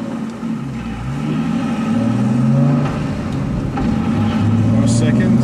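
A car accelerates in first and second gear for drift practice at a driving academy. A steady engine drone rises and holds loud and close, with a voice talking faintly underneath.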